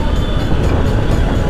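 Metro train rumbling past on an overhead track near Baranagar railway station, a steady loud low roar with no breaks, heard amid road noise.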